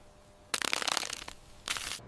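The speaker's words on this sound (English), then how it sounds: "Listen to that snap." Crisp jackfruit chips snap in a short, loud burst of crunchy crackling. A second brief crackle follows, with quiet before and between the two.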